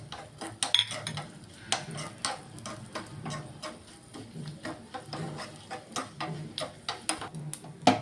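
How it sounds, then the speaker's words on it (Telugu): Cumin, mustard seeds, urad dal, a dried red chilli and curry leaves frying in a little oil for a coconut chutney tempering, giving a steady run of sharp crackles and pops with louder spits scattered through, close by and no talking. "జీలకర్ర, ఆవాలు, మినపప్పు, 1 ఎండుమిర్చి, కరివేపాకు వేసి వేపుతున్నాను."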